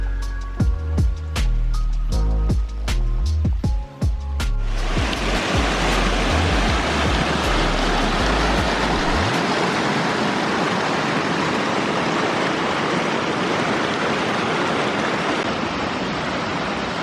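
Woodland creek rushes in a loud, steady broadband wash up close, after a few seconds of thumping handling noise.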